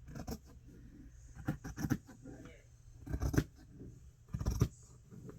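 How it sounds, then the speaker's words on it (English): Scissors snip through craft material while making a cover, in several short bursts of cutting and rustling, close but quiet. "So I'm going to grab my scissors"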